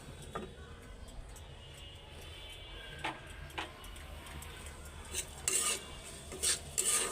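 Mustard greens stir-fried with plenty of garlic, onion and green chillies in a pan: a low steady sizzle under scattered metallic spatula scrapes and clinks that grow sharper and more frequent toward the end, with no talking.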